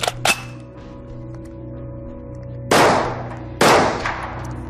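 Kalashnikov AK-12 assault rifle fires at a range: a sharp shot near the start, then two louder, close bangs about a second apart, each with a ringing decay, against steady background hum.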